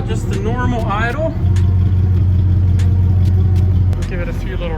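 An Audi S6 with a muffler delete idles with a low, steady exhaust rumble, while a person speaks briefly over it near the start.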